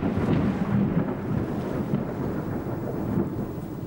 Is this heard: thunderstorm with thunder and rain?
yes